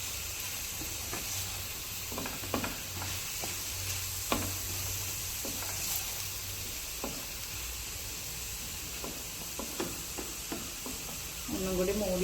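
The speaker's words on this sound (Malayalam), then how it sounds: "ഇളക്കാം." A snake gourd stir-fry with curry leaves sizzles steadily in a pan, with a constant hiss and irregular soft knocks and scrapes from stirring. A low hum sits under it, and a brief burst of clatter comes near the end.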